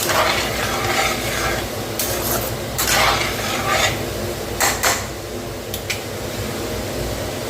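Seedai, sweet jaggery and salted rice-flour balls, deep-frying in hot oil, a loud continuous sizzle with scattered metal clinks and scrapes as the batch is turned over, no voices.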